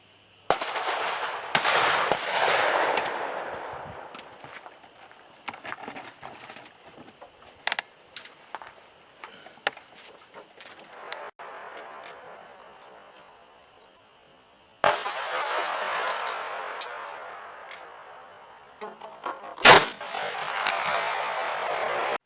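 Blasts from a Ruger Super Redhawk revolver chambered in .454 Casull, heard outdoors as a few sharp loud reports, each followed by a long rumbling echo that fades slowly, with quieter gaps between.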